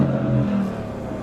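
A 2021 Porsche Cayenne GTS Coupe engine revs through its centrally laid-out exhaust, a brief deep rising growl, close and fairly loud, fading slightly.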